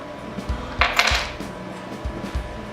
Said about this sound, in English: We just have to loosen the block up to be able to slide it over the barrel, which is what I'm doing now